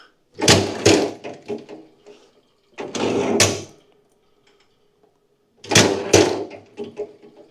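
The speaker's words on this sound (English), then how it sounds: "now let's give it a test on a full stroke" A kinetic log splitter runs through full strokes, giving three separate bursts of heavy mechanical clanking and thudding a few seconds apart, close by, with quiet gaps between them.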